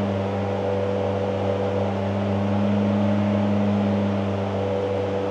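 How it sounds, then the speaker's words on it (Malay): Steady, continuous drone of a turbocharged car engine under about 75% load, with a strong low tonal hum and a broad rushing hiss of air drawn through the turbo compressor, close and unbroken without talk. "sebenarnya ada bunyi udara masuk tau melalui kompresor turbo tu."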